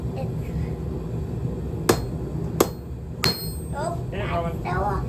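Three sharp, ringing hammer blows strike metal being forged into a heart shape, evenly spaced and close, followed by a voice.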